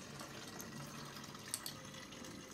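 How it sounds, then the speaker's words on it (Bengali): Water from a tap running steadily into bottles at home, a continuous watery rush with a couple of brief clinks near the middle, heard alone. "তারপর আমি জলগুলো পরিষ্কার করে বোতলগুলো ধুয়ে জলও ভরে নিচ্ছি।"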